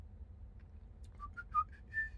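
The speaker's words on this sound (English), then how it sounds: "I hear whistling." A faint whistled tune plays quietly, a few short rising notes followed by a longer held tone, with no talking.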